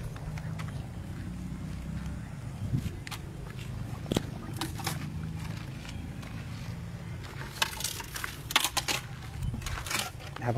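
An elephant breaks and chews crunchy sugar cane close by, giving irregular sharp cracks and crunching bursts over a low rumbling background, with a voice talking at times.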